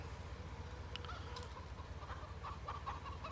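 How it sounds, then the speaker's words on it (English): Chickens clucking in the Farming Simulator 17 video game, faint scattered clucks and short calls over a low steady hum, with no talk. "I found the chickens."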